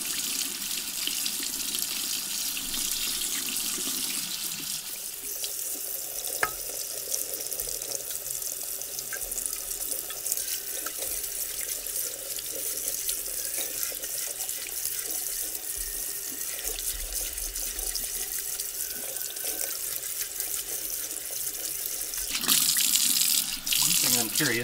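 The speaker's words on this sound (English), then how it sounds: "I'm also going to make sure I rinse all of that citric acid solution off" Tap water runs steadily into a sink, rinsing citric acid solution off a part of a 1950s Petromax lantern, a continuous close splashing rush that swells briefly near the end.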